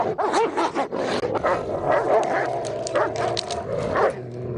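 Several dogs bark, yip and whimper close by throughout, a busy overlapping mix of short cries and yelps with occasional voices among them.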